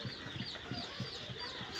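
Chickens clucking in short, repeated bursts at a steady rhythm, close by on a poultry farm in winter, over a constant background hum.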